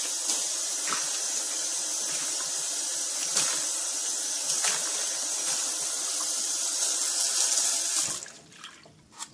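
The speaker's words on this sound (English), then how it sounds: "I'll just pour it down the drain" Liquid from chrome stripping, likely running water, pours steadily down a sink drain with a hissing, splashing flow close by for about eight seconds, then stops abruptly with a few faint drips.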